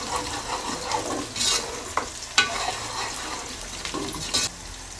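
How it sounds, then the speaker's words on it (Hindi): Steady close sizzling of onions frying in hot oil, with occasional spoon scrapes and stirring bursts breaking through the hiss. "यहाँ पे जो प्याज को फ्राई कर लेंगे पहले"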